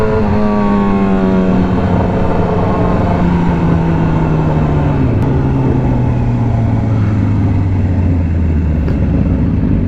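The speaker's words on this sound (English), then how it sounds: "My boy Justin on the 650R" A Honda 650R motorcycle, most likely, rides past loud and close, its engine note sliding steadily downward across the whole stretch as it passes or eases off, with a steady road roar underneath.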